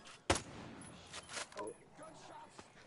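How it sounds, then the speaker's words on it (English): A single sharp gunshot cracks out early in the video game Ghost Recon Breakpoint, followed by quieter distant pops and shots under low background sound. "I hear gunshots."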